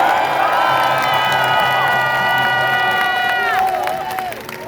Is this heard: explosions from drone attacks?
no